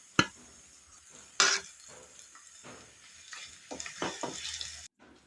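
Chili, turmeric, fenugreek and asafoetida powders stirred into a frying rambutan pickle mixture, with a couple of sharp spoon clinks against the pan followed by a soft sizzle and scraping stir.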